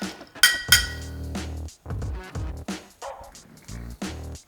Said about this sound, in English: Before I stir this for about 10 to 15 seconds, I'll add some ice to the mixing glass.